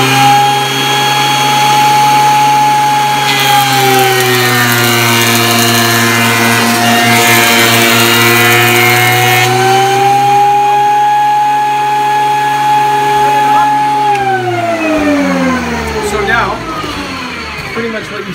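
A wood planer runs steadily as a guitar body blank is fed through it, giving a loud, sustained mechanical whine with a shifting pitch near the end as the cut finishes.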